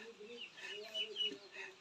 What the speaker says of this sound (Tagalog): Ang dami niyang pato na yan, eh.